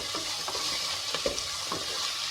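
Onions sautéing in a pan for a rice and lentil dish, a steady bright sizzle close by, broken by soft, irregular stirring scrapes, with no talking.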